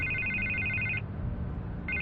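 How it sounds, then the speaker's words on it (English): A telephone rings in Batman: The Telltale Series video game, a bright electronic warbling ring lasting about a second, a short pause, then starting again over a soft background. "I can't get the phone to stop ringing."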